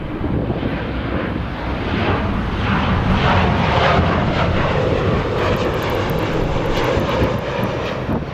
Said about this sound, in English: We have United 1689 flying in from Dulles, a 737-900